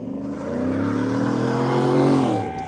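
A Chevrolet Impala SS engine roars past at a 2025 event at Grissom AFB, a loud, close rumble with rising and falling harmonics as the car accelerates by.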